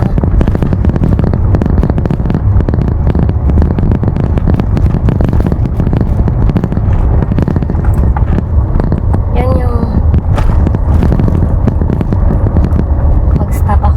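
A Mitsubishi Strada pickup truck climbs uphill, its engine giving a loud, continuous rumble mixed with wind buffeting and cabin noise, heard from inside and close.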